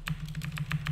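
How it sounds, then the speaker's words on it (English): Quick, crisp keystrokes on a computer keyboard, about half a dozen taps in an irregular rhythm over a low steady hum, close and moderately loud. "So I'm just going to type in"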